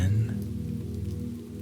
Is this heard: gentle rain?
yes